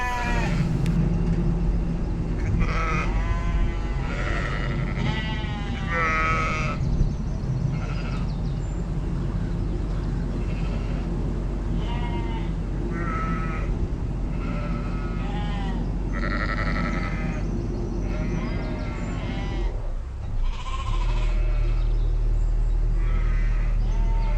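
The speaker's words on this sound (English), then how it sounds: "there were a lot of sheep bleating in the background" Many sheep bleat repeatedly in the background, some near and some farther off, over a steady low rumble.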